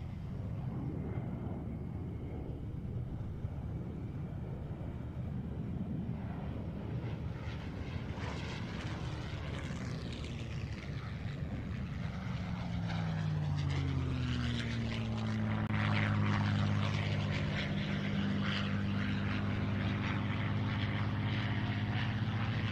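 A P-51 Mustang propeller airplane passes at an air show, its piston engine drone building from a distant rumble into a loud, rising and falling roar as it sweeps by overhead.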